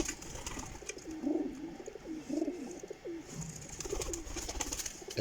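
Pigeons kept by a hobbyist coo in soft, repeated rolling phrases over a background hiss, fairly close but quiet, with no talking.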